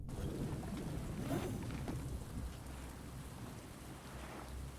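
Steady rain in the survival video game Stranded Deep, a dense continuous hiss and patter with low rumbling undertones, holding at a constant level throughout.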